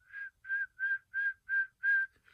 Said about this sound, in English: When I whistle,